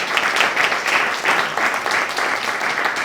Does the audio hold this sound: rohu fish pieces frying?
no